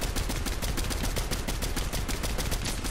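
Rapid gunfire from the video game Fortnite: a fast, even burst of shots that continues without pause for about three seconds.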